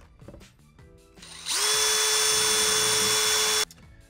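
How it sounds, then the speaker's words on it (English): A power drill bores holes through a wall jamb to mount the frame of a Delta round corner glass shower enclosure, a loud steady whine running about two seconds after quieter handling noises. "let's go ahead and drill those holes"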